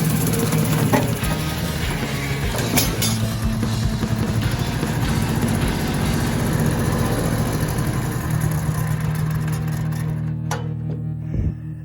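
A Yanmar YM1500 tractor with a 15-horsepower engine runs close by, a loud, steady low chugging drone with a faint knock at the end and no voices.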